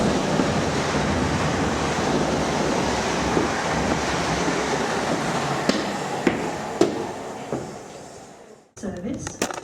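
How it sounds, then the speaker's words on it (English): A fast train rushing through a South Western Railway station on the line toward Alton, a loud continuous roar with clattering bursts that cuts off sharply near the end. "Another fast train coming in."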